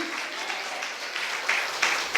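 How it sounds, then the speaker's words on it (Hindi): A church congregation clapping loudly, a steady wash of applause that holds evenly for a couple of seconds. "जोर से ताली बजाओ"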